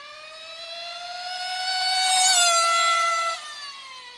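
A small high-revving engine in a Team Associated B5 Pro2 RC car, running rich at full throttle, screams steadily, pitch climbing and peaking before dropping off, loud and close with no talking.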